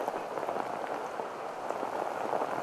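Heavy rain pours steadily onto the pitch during an under-18 boys' rugby match between Tonga and Samoa, a dense, continuous hiss of drops with no clear break.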